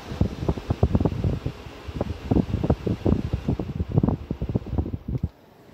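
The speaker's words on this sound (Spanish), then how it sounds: "Y ahora, si ponemos el aire acondicionado," A car's air-conditioning fan blows hard, sounding as a run of gusty, uneven bursts of rushing air close to the microphone that cut off abruptly near the end, with no talking.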